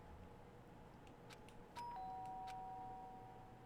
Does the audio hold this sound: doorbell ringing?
yes